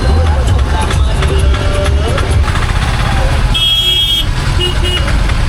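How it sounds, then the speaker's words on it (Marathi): Heavy road traffic crawls along a busy road during a pilgrimage procession, with engines rumbling close by, several car horns tooting and a long horn blast near the end, and people talking over the din. "खूप ट्रॅफिक आहे खूप"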